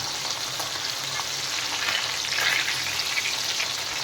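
Vaalai fish bought at Kasimedu, cleaned and shallow-fried in a pan, gives a steady, loud sizzle and crackle that holds without a break, with no voices over it.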